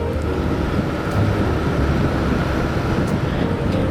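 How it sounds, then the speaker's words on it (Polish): Small Yamaha YBR 125 motorcycle being ridden, a steady low engine drone blended with heavy wind rush, loud and continuous throughout with no talking. "Jeżdżę teraz na takim małym motocyklu Yamaha IBR 125."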